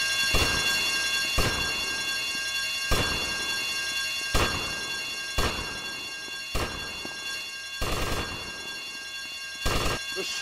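A bank alarm in the video game GTA Vice City rings continuously during a heist, a steady high electric bell tone broken by sharp clattering bursts at irregular intervals.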